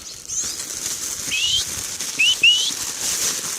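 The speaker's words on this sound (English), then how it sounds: "Practice their whistles too." A person whistles to call wild birds near a feeder, with a few short rising whistles over a steady outdoor background hiss.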